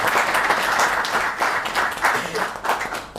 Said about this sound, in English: may we please give them a round of applause